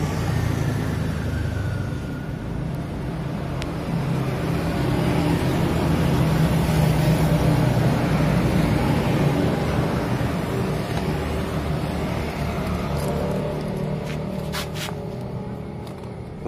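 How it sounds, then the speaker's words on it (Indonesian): A Suzuki F1ZR two-stroke motorcycle with a standard exhaust idles steadily nearby, a continuous low engine drone with no one speaking over it. "sebentar lagi saya hidupin motornya"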